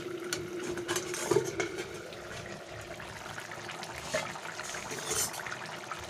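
Chicken liver and stomach simmer in a pan, a soft continuous bubbling and sizzling with occasional small pops and liquid trickles, close and moderately quiet.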